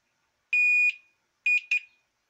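A multimeter continuity beeper sounds while probing a PCB pad against a passive component: one sustained electronic tone of about half a second, then after a pause a burst of three short beeps, clear and close with no talking.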